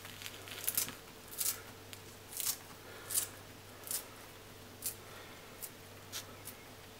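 Knife cutting up vegetables for an egg omelette breakfast burrito, about nine crisp, evenly spaced cuts close up over a low steady hum, no talking.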